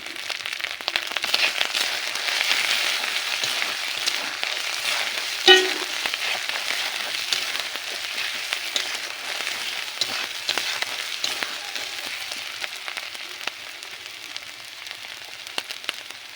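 Spices with chili powder fry in a pan with a steady, soft sizzling hiss and crackle throughout, one small pop near the middle, no voices over it.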